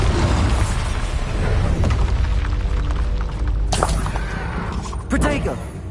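Explosive blasts from the Bombarda spell in the Hogwarts Legacy video game, loud dense booms over continuous battle noise, with two sharper bursts near the end and a voice speaking in between.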